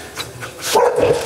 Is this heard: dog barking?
yes